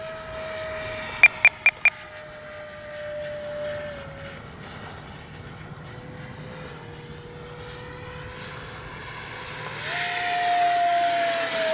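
A Freewing 80mm MiG-21 radio-controlled model jet flies on its maiden flight, its ducted-fan whine holding a steady pitch that drifts lower, then swells louder and rougher near the end, after a quick burst of four short beeps early on.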